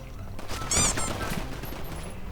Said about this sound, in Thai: มาถึงก็โดนยิงเลย